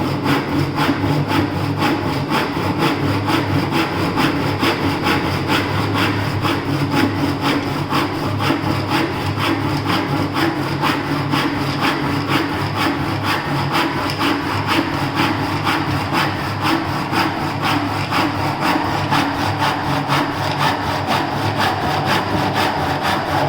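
A hand saw cuts wood in a carpentry practical, the backward stroke doing the cutting, giving a steady, close, rhythmic rasp of evenly repeated strokes that runs without a break.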